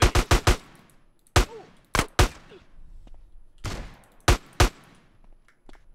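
Game gunfire from GTA San Andreas: a rapid burst of four sharp shots, then scattered single loud cracks spaced across a few seconds, with quieter noise and faint ambience between them.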